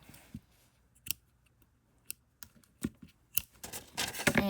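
Scissors snip off loose yarn ends during left-handed crochet work, a few separate sharp close cuts spaced out over a quiet background, ending in a louder burst of handling.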